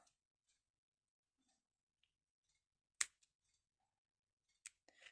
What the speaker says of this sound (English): I'm going to cut these off.